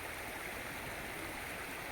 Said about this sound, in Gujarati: આખું બુડી ગયેલું રહે ઘડે એમાં પાણી જાય છે